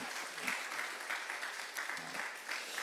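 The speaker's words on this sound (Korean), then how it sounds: "큰 따뜻한 환영의 박수로 한번" A church congregation at a Sunday service gives welcoming applause, a steady wash of clapping held at a moderate distance, with no voices over it.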